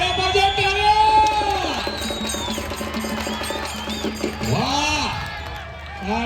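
Crowd at an open-ground kushti wrestling match in Jejuri cheering and shouting in a steady roar, with an announcer's voice carrying over the noise throughout.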